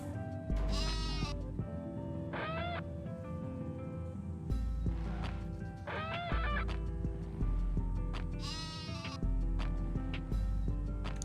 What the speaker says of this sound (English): What's with all the sheep?